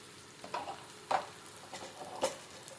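Five kinds of leafy greens, including spinach, sorrel and amaranth, hit a hot pan and fry with a soft, faint sizzle, broken by a few brief stirring scrapes at irregular intervals.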